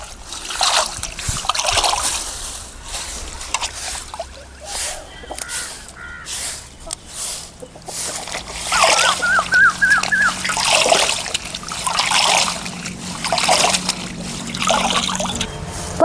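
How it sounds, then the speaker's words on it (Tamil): Drumstick (moringa) leaves are rinsed by hand in water, with steady close splashing and trickling that runs throughout and swells in louder bursts. "முருங்கைக்கீரையை அலசி எடுத்துக்கலாம்."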